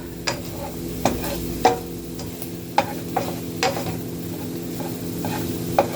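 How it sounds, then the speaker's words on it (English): Scrambled eggs cook in a pan with a steady sizzle, while sharp utensil scrapes and taps against the pan sound every half second or so. "And scrambled eggs, y'all. Y'all see how quickly these are cooking up."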